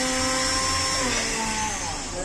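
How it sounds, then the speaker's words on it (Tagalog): Close, loud whir of a blender crushing watermelon chunks and ice, the motor pitch wavering as the blades grind through the load, running continuously throughout. "Si Migo habang nagbe-blender"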